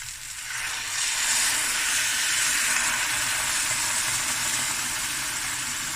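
A pot of lamb shanks comes to a boil, giving a loud, steady, broadband hiss that swells in the first second and then holds evenly.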